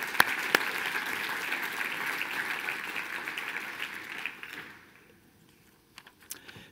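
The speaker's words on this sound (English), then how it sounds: "So let's give the 4 of these guys a big round of applause." Audience applause at a sales seminar, steady clapping from a crowd that fades out after about four seconds, leaving a few scattered claps and quiet room noise.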